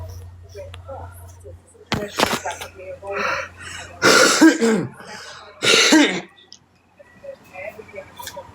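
Several harsh coughs and throat-clearing bursts, close and loud, in rough clusters separated by short pauses, with quieter breathing and shuffling between them.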